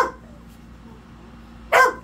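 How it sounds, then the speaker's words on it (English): A pet dog gives a short, loud bark near the end of a mostly quiet indoor stretch, close by and sudden. "now my other dog's going to start barking because she hates it"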